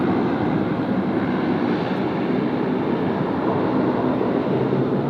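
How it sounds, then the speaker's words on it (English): A Jetstar airliner takes off from runway 34 left, a steady broadband jet engine roar holding loud and even throughout with no voices. "Runway 34 left, clear for takeoff, Jetstar 7."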